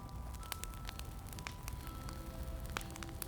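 A gentle wood fire crackling inside a cozy winter cabin, with soft scattered pops and snaps over a low steady hiss, quiet and close, no voices.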